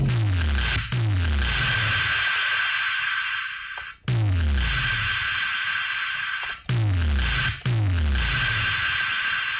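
Broadband white noise layer from an FL Studio EDM patch, a steady hiss with a tonal band, cut by brief gaps and sweeping low pulses that repeat several times across the stretch, with no talk.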